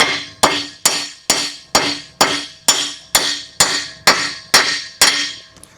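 Steel pins are hammered into a Columbian #206 vise during a restoration. A dozen sharp, ringing metallic strikes land at a steady, even rhythm, close and clear.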